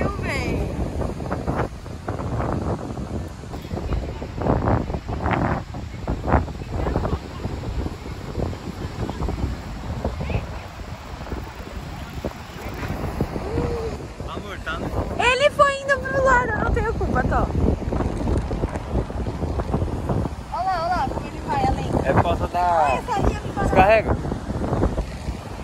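Wind buffets the microphone on a beach during kite flying, gusting unevenly under frequent nearby conversation, with a brief whistling burst midway.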